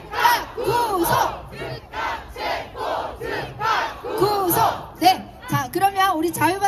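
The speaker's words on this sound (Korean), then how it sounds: "자, 무대 올라올 동안 우리 다 같이 한번 또 외쳐보겠습니다" Protest crowd at an outdoor rally in a city square in Ulsan chanting slogans in unison, loud rhythmic shouted phrases repeated in bursts with short pauses between, a strong massed roar of voices.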